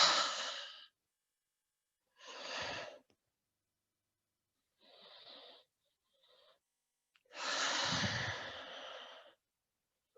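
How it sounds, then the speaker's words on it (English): Several breathy open-mouth exhales during a yoga session, each a soft sigh-like rush of air, four or five spaced a second or two apart, the last one long and fullest, close and otherwise silent. "take a few open mouth exhales"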